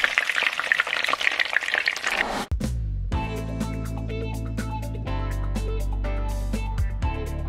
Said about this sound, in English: You have some boiling oil right here.